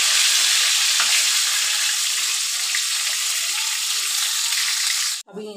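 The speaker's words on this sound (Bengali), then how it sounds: "দিয়ে আমি বেগুনগুলোকে ভেজে নিচ্ছি ছাকা তেলে" Long eggplant slices, coated in salt, turmeric and a little sugar, deep-fry in hot oil with a loud, dense, continuous sizzle that cuts off abruptly near the end.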